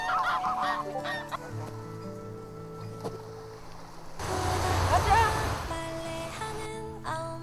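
Geese honking loudly and repeatedly at close range, a raucous burst of overlapping honks that swells in the second half over outdoor background noise.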